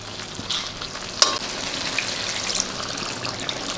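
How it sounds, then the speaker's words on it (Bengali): Chicken kofta curry frying steadily in a pan, a broad close sizzle throughout with a sharp splash as water goes in near the start and faint trickling after. "এবার জল দিয়ে দেবো।"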